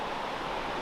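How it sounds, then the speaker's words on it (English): A waterfall in the Brecon Beacons sends out a steady, broad rushing roar, continuous and fairly loud with no other sounds standing out. "And that's the waterfall there."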